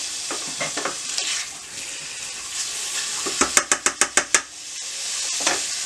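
Chicken livers frying in a hot pan, a steady sizzle broken by a quick run of sharp metallic clicks and taps from utensils against the pan.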